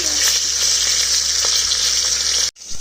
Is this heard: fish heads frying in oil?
yes